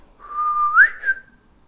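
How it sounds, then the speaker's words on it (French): A single human whistle called out to summon leafcutter bees: a sustained clear tone that rises sharply near its end, dips, and briefly rises again before fading, loud and close with no other sound. "siffle pour les appeler"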